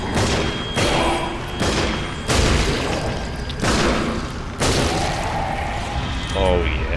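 M1911 pistol shots in the Sniper Elite Nazi Zombie Army video game ring out as a string of sharp, booming reports at uneven intervals, about six in all, each one loud and close with a short echoing tail.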